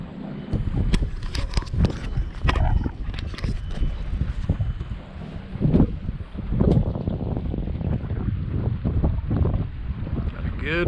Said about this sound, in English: The wind's picked up out here.